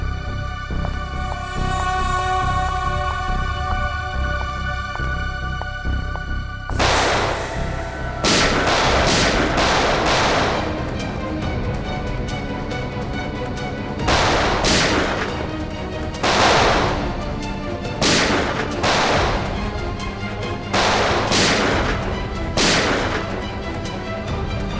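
Gunfire in a shootout arrives as a string of sharp, loud cracks after a quieter opening stretch, some single and some in quick pairs, ringing out over a low rumbling background with no speech.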